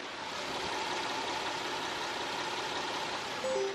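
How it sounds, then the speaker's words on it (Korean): Hyundai Grandeur HG 300 engine idling outdoors, a smooth, steady, quiet hum with an even rhythm and no speech over it. "그럼 바로 영상으로 엔진 소음 한번 담아보도록 하겠습니다"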